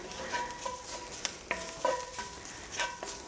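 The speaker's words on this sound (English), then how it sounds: "So you just wanna toast the spices for maybe about a minute or so" Spices toasting in a pan for a lentil curry, a quiet sizzle under intermittent stirring and light metallic scraping of a utensil against the pan.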